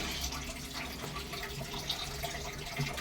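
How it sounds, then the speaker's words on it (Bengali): Cooked rice for pilaf tipped into a strainer in a home kitchen, water running and splashing through the mesh in a steady broadband rush with small drips, close and continuous, with no talk. "এবার আমি এটা ছেঁকে তুলে নেব।"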